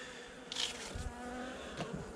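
Honeybee colony during a November hive inspection, a dense steady buzz of many bees close by with a few louder fly-past surges and faint handling noises.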